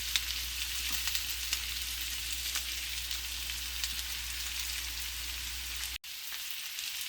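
Food sizzling steadily in a cooking pot, a constant crackling hiss at moderate level, briefly cutting out near the end before resuming.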